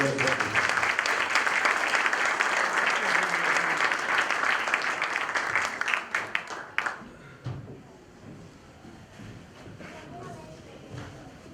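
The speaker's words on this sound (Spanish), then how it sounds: "quiero que le agradezcamos con un fuerte aplauso el que hoy esté con nosotros" A live audience breaks into loud, dense applause for Argentine journalist Jorge Fontevecchia at an event at Hacoaj. The sustained clapping fills the first six seconds, then thins to scattered claps and fades into quieter room noise.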